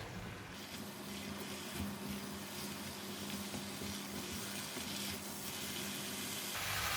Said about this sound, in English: after I put in the mushroom, and I'm going to increase the temperature and give it a stir